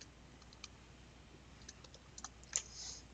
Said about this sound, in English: As you can see, I'm typing it in here.